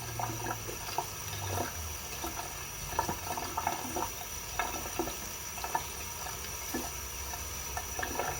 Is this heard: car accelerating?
no